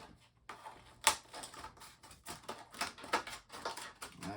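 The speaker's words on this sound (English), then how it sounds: "So we'll cut with these big ones." Large Crescent Wiss shears snipping through plastic packaging and the cardboard inside, giving a few sharp, close crunching cuts in an irregular rhythm with no talking.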